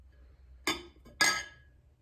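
A glass frog flower holder clinks against the inside of a glass fish bowl, two bright ringing taps about half a second apart, quiet and close with a faint hum between them.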